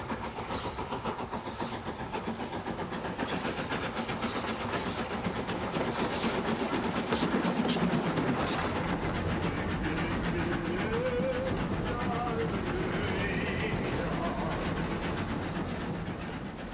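Steam locomotive of the O2 class on the Isle of Wight railway, a steady chugging rumble with rhythmic clatter of carriages running throughout, fairly loud and continuous, with a faint whistle-like tone toward the end.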